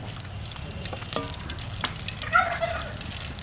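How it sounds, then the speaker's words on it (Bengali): Small sweets fry in date palm jaggery in a wok, a close crackling sizzle with bursts of bubbling and light stirring, steady and fairly soft throughout. "আস্তে আস্তে জাল দিয়েই ভাজা করতে হবে"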